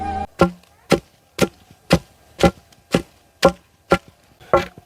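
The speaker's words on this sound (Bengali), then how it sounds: "ডিমগুলোকে ভালো করে থেতো করে নেব" Boiled eggs pounded with a pestle in a wooden mortar give about ten crisp, evenly spaced thuds, roughly two per second, close and clear with near silence between strikes.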